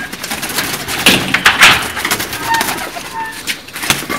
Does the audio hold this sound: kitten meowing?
no